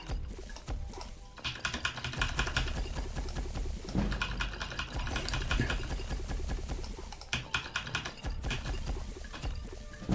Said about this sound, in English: it's a good job I got a mechanical keyboard